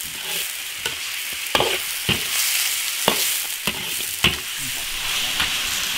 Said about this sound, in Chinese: 先把它的水分煸干煸香，